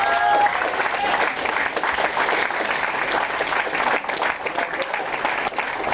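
A welcoming crowd in Kamnik gives loud, sustained applause for Miro Kregar, with dense clapping filling the space and a faint murmur of voices underneath.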